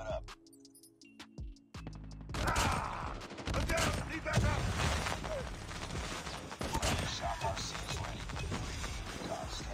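Shotgun fire in Call of Duty Mobile, a few sparse clicks and shots that give way to a dense stretch of rapid autofire blasts with game noise, and a voice talking over it.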